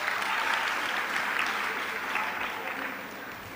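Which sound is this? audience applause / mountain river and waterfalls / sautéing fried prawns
audience applause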